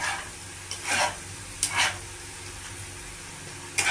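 Ridge gourd paste cooks in a hot pan over a low sizzle, broken by three or four short, loud stirring scrapes spaced a second or two apart, with no voices.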